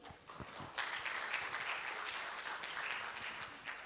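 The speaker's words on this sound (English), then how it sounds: "Can we have a huge round of applause for sir?" Clapping from a seated audience at an awards function and international conclave, sparse at first then swelling into steady, even applause that holds to the end at moderate volume.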